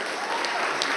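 An audience at a school district board of trustees meeting applauds, a brief burst of dense, even clapping that fills the room at close range.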